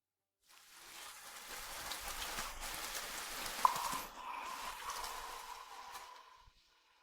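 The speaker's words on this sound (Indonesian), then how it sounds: "Di luar sedang hujan?" Steady rain falls outside, a soft, even hiss of drops that swells in and fades out over several seconds, quiet and distant, with one brief faint click partway through and no voices.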